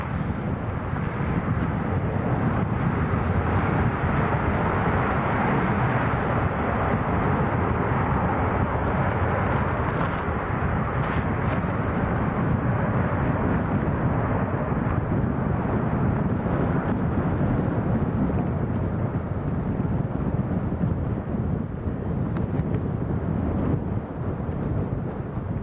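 A Ryanair airliner landing in a strong crosswind at Lanzarote Airport, heard as a steady, loud, distant roar of engine noise mixed with wind buffeting the microphone, continuous throughout without talking.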